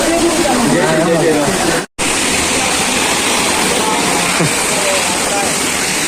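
At the crowded Kapildhara waterfall, rushing water makes a loud, steady broadband roar close by. It continues without a break apart from one momentary cut in the sound.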